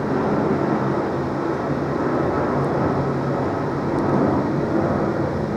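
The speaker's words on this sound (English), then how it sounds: "That noise you can hear is a plane, because we're on the flight past Heathrow." Steady broadband roar of an airplane passing overhead on the flight path near Heathrow, heard from Old Windsor Lock on the Thames, continuous and fairly loud with no other clear sounds.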